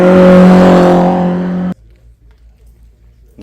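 A four-cylinder Opel historic race car at a hillclimb roars loudly and close by for under two seconds, then cuts off abruptly, leaving a faint low rumble.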